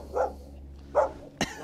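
A dog barks three times nearby, two deep woofs followed by a sharper, shorter bark after a brief pause.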